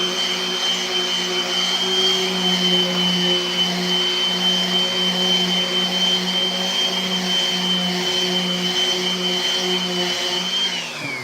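A DeWalt orbital sander working hard against a handcrafted skateboard deck under heavy pressure, a steady loud whirring drone with a high whine that holds for the whole stretch and dips slightly at the end.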